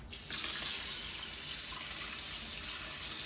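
Cold water runs steadily from a sink tap while salmon roe is rinsed, a close, even hissing splash that stays constant and is heard on its own.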